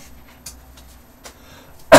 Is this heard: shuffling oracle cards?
no